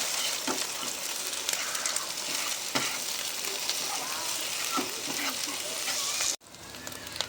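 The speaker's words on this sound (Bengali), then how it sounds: "ডিমগুলো ভালো ভাজা হয়ে গেছে।" Eggs seasoned with salt and turmeric fry in a pan with a dense, crackling sizzle that runs close and steady, then cuts off abruptly near the end before a softer hiss resumes.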